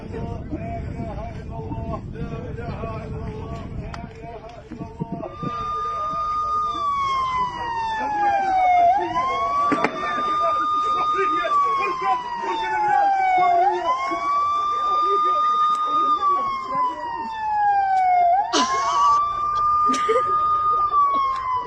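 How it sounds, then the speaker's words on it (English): Emergency vehicle sirens in Israel wail in repeated rising and falling sweeps, loud and continuous, over general background noise. "Those sirens have a magical effect on bodies, man."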